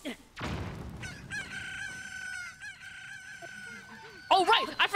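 A video game cucco from The Legend of Zelda: Tears of the Kingdom crows loudly in a long drawn-out call, then sharp clucking bursts follow near the end, with a bright, slightly synthetic tone.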